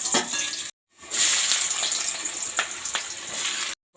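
Cardamom, cloves and bay leaves sizzle loudly in hot oil in a home kitchen, a dense crackling hiss broken by a short silent gap and then continuing steadily to the end.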